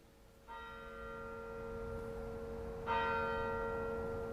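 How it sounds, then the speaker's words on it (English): A church bell rings twice, each strike bright and sustained with a long humming decay, clear and fairly near in a quiet rural setting. "Bells from the church."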